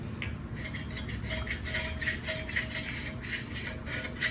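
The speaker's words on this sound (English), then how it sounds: "I'll use that one initially, then I'll come in with the super scraper." A hand scraper drawn across the flat deck surface of a Cummins 5.9 cylinder head, giving a rapid series of short, bright rasping strokes in a steady rhythm, close and clear.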